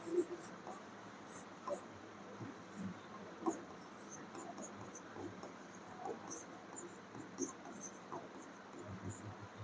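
Chalk taps and scrapes across a classroom board in short, irregular strokes, faint and spaced out, while a teacher talks intermittently and a soft background hiss persists.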